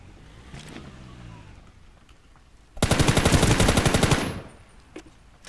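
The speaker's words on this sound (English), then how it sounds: "Is he shooting at you? I think he's shooting at you." Automatic gunfire from another player in the video game Ring of Elysium, a loud rapid burst of about a dozen shots lasting over a second, rising abruptly over faint background engine and ambient noise.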